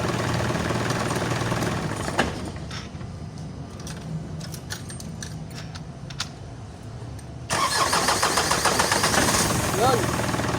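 An Isuzu 4HL1 diesel engine with a suction control valve fault turns over and runs, a rough low rumble that swells louder near the end, with voices talking over it.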